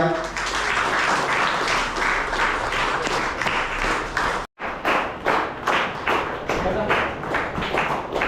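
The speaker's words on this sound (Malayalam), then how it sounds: "കൈയടി പോരാ." A crowd at a Kochi gathering claps steadily, loud continuous applause that drops out for a brief instant midway and returns with distinct, regularly spaced claps.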